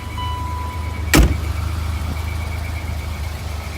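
1987 BMW M6 E24 engine running at a steady idle, low even rumble throughout, with a single sharp click or knock near the middle.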